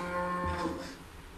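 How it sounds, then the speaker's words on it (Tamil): A single cow lets out one long, close, loud moo that slowly fades at the end, heard on its own without any talking. "மாடுலாம் கத்துட்டு கடந்து"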